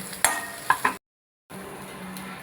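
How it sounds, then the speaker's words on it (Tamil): Shallots, ginger, garlic, green chili and curry leaves sautéing in a pan, a soft steady sizzle with a few sharp metallic clinks of a utensil, cut by a brief half-second silence before the sizzle resumes. "இஞ்சி இந்த பூண்டு பச்சை மிளகாய் கருவேப்பிலை எல்லாத்தையுமே அதில் போட்டு இப்போ வதக்கிக்கலாம்"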